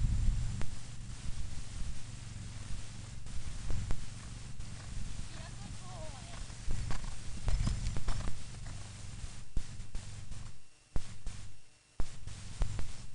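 Horse hooves clip-clop in an uneven run of thuds and taps close by, with voices and rustling over them.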